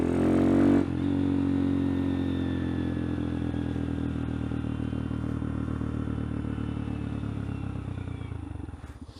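A motorcycle fitted with a new sprocket combo rides along with a steady, close engine drone that holds a constant pitch for most of the stretch and then trails off at the end.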